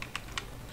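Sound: typing a command on a computer keyboard

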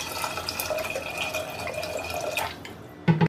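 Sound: water poured to wash toor dal in a cooker

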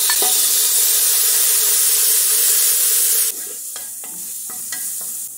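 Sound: bacon frying in a hot pan

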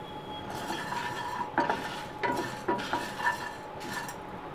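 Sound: roasting spices in pan until golden

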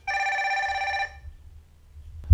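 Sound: phone call ringing from Fire-Boltt Ninja Bell smartwatch

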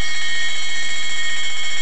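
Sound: alarm going off in a house

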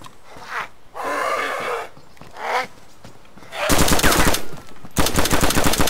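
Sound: gunshots in the video game DayZ Standalone

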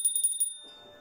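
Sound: small altar bell being rung

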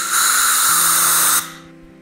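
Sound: compressed air blowing water drops out

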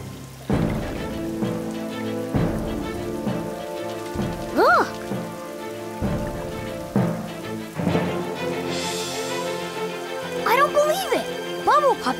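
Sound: rain falling in a cartoon

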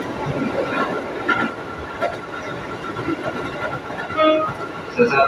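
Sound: commuter train riding on the Yogya line

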